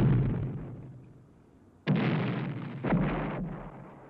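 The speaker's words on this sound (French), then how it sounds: "Le seul son qui parvient à nos oreilles, c'est celui des autres explosions qui ravagent la ville." Deep booming explosions ravaging a city go off one after another in an animated film, each blast followed by a long rumbling decay; loud and reverberant with no voices.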